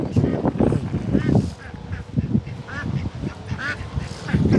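Ducks quack and honk repeatedly at a Bangladeshi-owned animal farm in America, overlapping calls close by with people talking among them.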